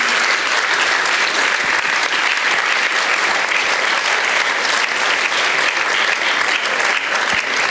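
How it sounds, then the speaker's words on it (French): Dense, continuous applause from an audience at a film festival award ceremony, loud and steady for the whole stretch with no pauses. "Applaudissez encore un peu"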